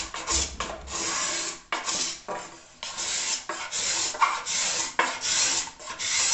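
A hand cabinet scraper shaves a wood surface in about eight firm, close, raspy strokes separated by brief pauses, with no voices.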